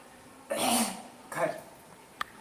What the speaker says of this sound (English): let me just clear my throat one more time